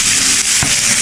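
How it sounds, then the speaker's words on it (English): Carrots and sweet pepper being stir-fried in a pan give a continuous close sizzle with a brief scraping stir in the middle. "we're just going to keep stir frying it until it have a little consistency"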